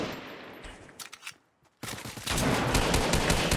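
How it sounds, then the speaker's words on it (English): Gunfire in a video game: a quieter stretch of scattered shots, a brief near-silence, then a sustained loud burst of rapid firing that fills the end. "2 people shooting."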